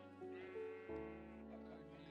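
Sheep in a small farm pen in Minecraft give two or three drawn-out, wavering bleats in close succession, close and clear with no talking over them.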